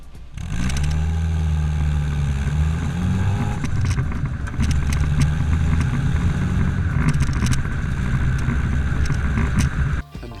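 A classic Mini's engine idles with a throaty, rumbling stock exhaust note, rising in a few revs, loud and close throughout.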